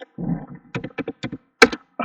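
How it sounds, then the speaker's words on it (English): Keys on a computer keyboard are struck in a short, uneven run of distinct taps and clacks, close and fairly clear, with brief pauses between strokes. "all I have to do is to type the third network"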